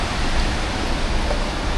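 Steady, dense rain falling outside a Sydney train station, a loud, even hiss with no talking.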